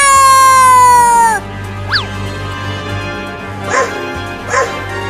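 A dog gives several short yips and barks, spaced apart, after a sustained tone cuts off; a steady low hum runs underneath.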